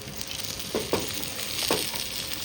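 Soaked peas sauté in a hot pan with a low steady sizzle, broken by a few soft stirring scrapes, close and fairly quiet, with no talking.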